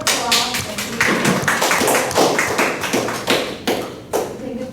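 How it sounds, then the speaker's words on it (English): A small group applauds after a classroom presentation, giving scattered, uneven claps that sound fairly close and moderately loud, then thin out over a few seconds. "Big round of applause"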